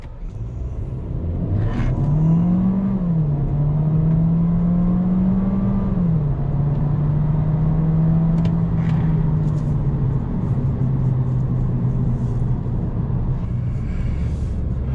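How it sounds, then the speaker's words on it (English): A 2022 Audi A3 S-Line subcompact sedan drives along with a steady engine hum that rises and settles in pitch as it accelerates, under continuous road and tire noise, heard from inside the cabin. "So now driving the Audi A3 here as an entry-level subcompact sedan."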